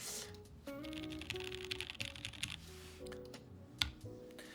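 Rapid clacky keystrokes from a mechanical keyboard, close and continuous, with a few sharper clicks standing out over a faint tonal background.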